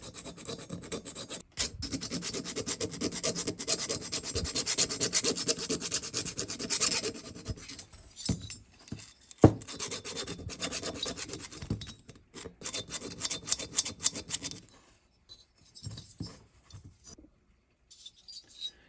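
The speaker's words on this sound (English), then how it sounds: "That's where I've been filing at." A metal file rasps along the chamfered port edges of a small engine cylinder. The close scraping strokes run for about fifteen seconds in a steady rhythm, then give way to a few scattered quieter scrapes.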